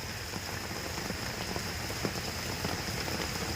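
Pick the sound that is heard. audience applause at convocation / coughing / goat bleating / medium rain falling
medium rain falling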